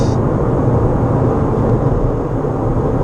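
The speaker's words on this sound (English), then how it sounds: "There's a little bit of wind noise, I think, from the mirrors," Steady broadband wind and tyre roar inside a Renault 5 EV cabin cruising at 70 mph, a constant loud rumble with a slight hiss from the mirrors and no talking.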